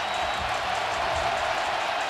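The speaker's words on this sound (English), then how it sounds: "The crowd is getting revved up here in Tallahassee." Football stadium crowd in Tallahassee, Florida State hosting Southern Miss, roars as a steady, dense wall of distant cheering and noise, with no individual voices standing out over the short stretch.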